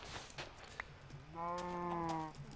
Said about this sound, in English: chickens and cows side by side